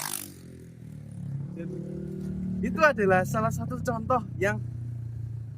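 Motorcycle fitted with a loud aftermarket knalpot brong exhaust in Tulungagung, Indonesia, its engine droning low beneath a person speaking, with a few louder bursts partway through.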